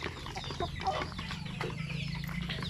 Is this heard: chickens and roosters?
yes